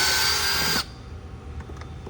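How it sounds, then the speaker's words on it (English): A power drill loosening screws on a BMW S58 engine air filter housing whirs loudly for under a second, then cuts off, leaving a quiet room with faint background noise. "I'm going to use a power tool to save some time for the video."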